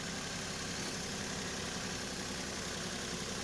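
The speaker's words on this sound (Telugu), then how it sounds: "ఇంజన్ మాత్రం సైలెంట్ ఉంది." A 2010 Maruti Zen Estilo VXI petrol car idling, a quiet, steady low engine hum with faint vibration and no voices.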